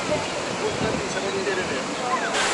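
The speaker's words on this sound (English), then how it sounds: "So we got a waterfall here, and then the kayaks go down through the easy side there." Steady rushing roar of a river waterfall in Cesky Krumlov old town, where kayaks run the easy side, continuous and fairly loud with faint voices in the background.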